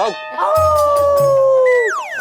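A person imitates a dog with a drawn-out howling, barking voice, one long sustained wavering cry close and loud, ending in a falling whine.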